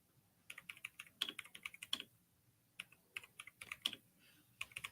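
Fingers type on a laptop keyboard in quick, uneven bursts of soft clicks, close and fairly quiet, with a short pause midway before the tapping resumes.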